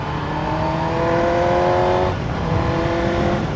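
A Suzuki GSXR 600 motorcycle on a test ride gives a loud, close, steady engine drone with a tonal whine that drops as it shifts or eases off partway through, over rushing wind noise.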